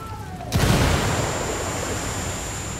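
A frag grenade bursts in a Ghost Recon Wildlands firefight as a loud, sudden boom that fades into a long rumbling decay.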